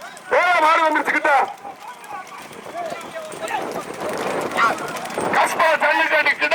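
Bulls pulling carts in a bullock cart race thunder past with drumming hoofbeats, mixed under loud shouting from an announcer and excited crowd voices.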